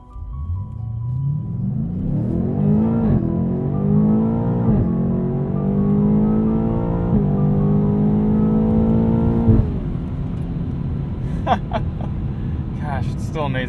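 A 2020 BMW M8 launches hard and accelerates, its engine note rising in pitch through several gear changes before easing off, heard steadily from inside the cabin.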